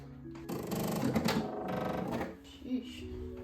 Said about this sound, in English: Let's go ahead and sew along this edge and then go from there.